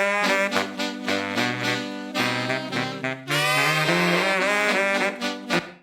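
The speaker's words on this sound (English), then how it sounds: "So that's just basically the raw sax sound" A clean, dry saxophone plays a short melodic phrase of sustained notes, close and fairly loud, with a touch of reverb.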